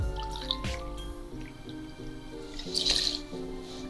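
Rittenhouse rye whiskey is poured for a Sazerac cocktail: a soft liquid glug and trickle with a few drips and light glassware clinks, heard close and fairly quiet against a low steady background hum.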